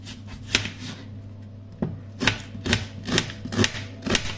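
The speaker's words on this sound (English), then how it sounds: "I'm going to chop our onions and then add them to the pot" A knife chops onion into tiny slices on a board, with sharp, separate cuts at an irregular pace and a short pause before a steadier run of strokes, close and fairly crisp.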